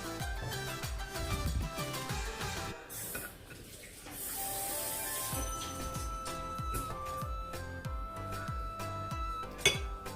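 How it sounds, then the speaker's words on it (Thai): Lemongrass and dried shrimp pounded in a mortar for northern Thai pomelo salad, regular thudding pestle strikes with ringing clinks against the mortar, repeated close up at a steady rhythm with a brief pause midway. "ตำตะไคร้กับกุ้งแห้งให้เข้ากันก่อนนะคะ"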